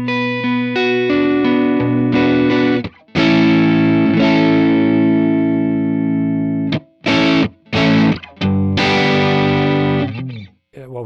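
Guitar played through a Strymon Iridium amp modeler with slight drive, ringing out sustained chords and single notes with rich upper harmonics, loud and close, broken by short pauses between phrases.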